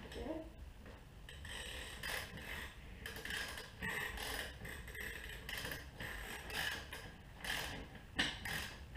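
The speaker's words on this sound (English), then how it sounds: "You want to try ratcheting over on this side?" A ratchet clicks in short bursts while bolts are tightened during assembly of a 1972 Honda Z50 motorcycle, with quiet, close-up ticking and clattering over faint workshop background.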